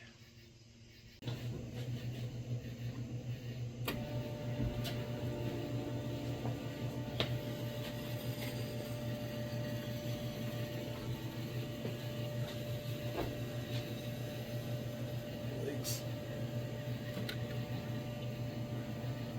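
Electric fuel pump on a Suzuki SX4 fitted with a Holley carburetor, a steady close hum and whir that starts abruptly and runs continuously with faint ticking, no voices.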